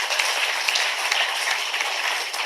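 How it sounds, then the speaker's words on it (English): Applause from the audience at a university CEO and CHRO leadership forum and awards event, a steady wash of clapping lasting the full stretch at moderate level with no one talking over it. "Huge applause for him."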